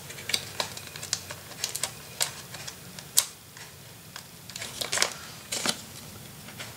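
Scissors cutting down patterned paper for a Graphic 45 Floral Shoppe craft planner, a close series of crisp, irregular snips and paper rustles with a few louder cuts.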